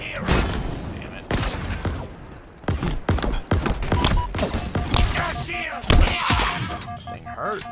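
Halo Infinite campaign combat: bursts of rapid gunfire with heavy thuds and impacts crowd the scene. A voice talks intermittently through the firing.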